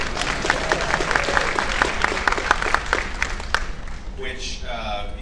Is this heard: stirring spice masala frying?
no